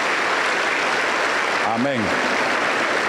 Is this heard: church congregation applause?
yes